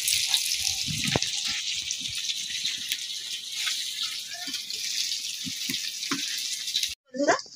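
Fish frying in hot oil in a home kitchen: a steady, bright sizzle with scattered pops and crackles continues throughout, then cuts off abruptly near the end, followed by a brief louder clatter.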